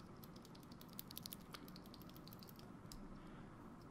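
Typing on a Redragon Yama RGB mechanical keyboard fitted with Outemu Purple 62g switches, heard as quiet, fairly steady key clatter with a louder click at the very end.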